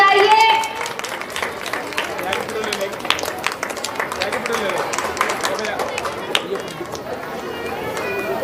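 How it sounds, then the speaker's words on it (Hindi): An audience at a mushaira, an Urdu poetry gathering, claps in a dense, continuous patter, with voices mixed in under the applause. "तालियां बजाइए।"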